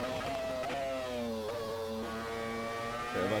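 A Renault R25 Formula One car in the Assetto Corsa racing game drones at steady high revs, its engine tone echoing with reverb and dipping slightly through gear changes before a brief rise at the end.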